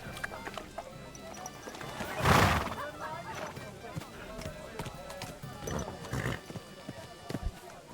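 A horse whinnies loudly at mid-distance in the medieval game Kingdom Come: Deliverance II, followed by scattered clip-clop hoof beats, with someone talking over it.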